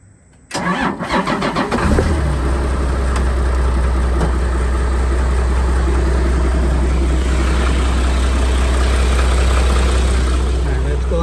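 A 2001 Isuzu FRR tow truck engine cranks briefly, then catches and settles into a steady, loud, low rumbling idle that continues unbroken.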